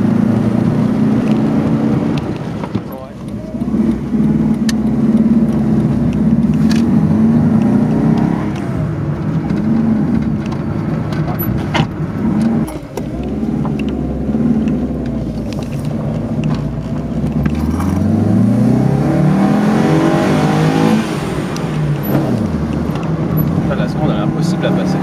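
An Alfa Romeo Alfa 33 with an ignition fault drives under hard throttle, its engine note rising and surging with some roughness, and a clear rising rev sweep near the end, with a voice talking at times.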